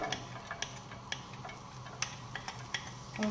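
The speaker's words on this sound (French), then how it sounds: "J'allume mon feu, je suis à feu vif comme d'habitude. Allez, on va cuire nos oignons." Onions start cooking in a pan over high heat for a potato gratin, a soft low sizzle with scattered light ticks and taps of a utensil, quiet and close, no talking.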